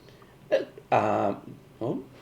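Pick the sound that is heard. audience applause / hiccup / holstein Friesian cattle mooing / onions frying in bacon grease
hiccup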